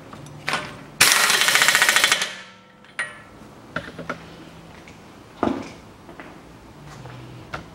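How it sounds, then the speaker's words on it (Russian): A pneumatic impact wrench tightens the drive nut on a Volkswagen Passat B6 during front wheel hub work, giving one loud hammering burst of about a second. Scattered metallic clinks and knocks follow in a quiet garage. "Прикручиваем гайку привода, болт привода."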